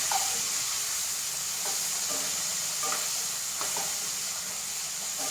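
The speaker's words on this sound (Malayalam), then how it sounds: "ഇനി ഞാൻ അതിലേക്ക് തക്കാളി അങ്ങോട്ട് ഇട്ട് കൊടുക്കുകയാണ്" Tomatoes and curry leaves fry in a hot pan for a bitter gourd curry, giving a steady close sizzle with scattered light stirring clicks and soft scrapes throughout.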